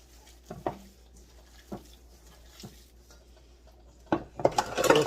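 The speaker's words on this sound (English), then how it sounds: "I'm just going to get in there with my hands and we're just going to mix all this together" Bare hands squelch and knead skinless sausage meat mixed with ginger and onion in a bowl, a few soft wet slaps spaced apart before a louder burst of rapid squishing at the end.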